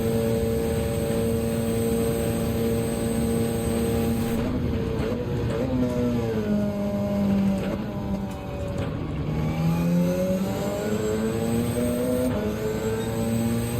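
A Porsche race car in Gran Turismo 7 drones steadily at high revs, its engine pitch dropping and climbing again as it shifts and accelerates through a continuous, even-volume pass.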